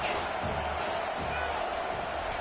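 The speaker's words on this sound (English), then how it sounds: "the crowd really making some noise now, trying to help out this defense to get this stop near the goal line" A stadium crowd at a football game, with the defense trying to make a stop near the goal line, sends up a continuous, muffled roar of noise with low thumps and swells, heard from a distance under a broadcast mix.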